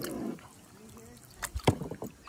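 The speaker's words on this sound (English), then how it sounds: "I'll try and paddle with one hand." Kayak paddle dipping into a creek, soft water swishes and gurgles with a few sharper splashes near the end, close by and quiet over faint background noise.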